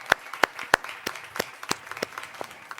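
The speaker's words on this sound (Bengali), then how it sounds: "আবারও আপনাদের সবার জন্য জোরে একটি করতালি" A burst of audience applause at a Channel S anniversary event in 2020, with a few sharp, loud claps near the start and then a thinner, scattered patter that keeps going to the end.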